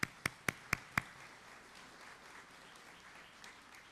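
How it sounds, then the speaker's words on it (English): Audience at a college gala honoring a guest, with a few loud, close claps at the start trailing into a softer, scattered round of applause that fades away. "So if you would join me in giving the family a nice round of applause."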